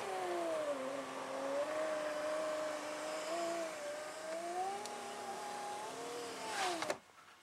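A Pontiac Grand Prix power window motor slowly raises the window with a steady, strained whine that wavers slightly in pitch, then stops with a soft thunk at the top.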